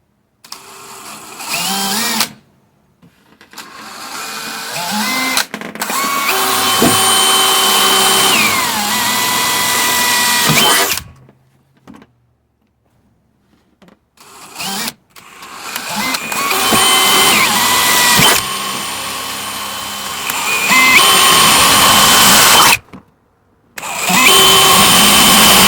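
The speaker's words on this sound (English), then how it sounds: "drill right on the edge of our tape because our tape is in a straight line from this hole to this hole" A power drill bores into a car door along a taped line in several long, loud bursts of whining motor, separated by short silent pauses.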